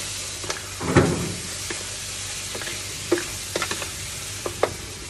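Pasta sauce and ketchup are stirred in a frying pan, a soft steady sizzle under scattered scraping and clinking strokes of the utensil against the pan, close and moderately quiet.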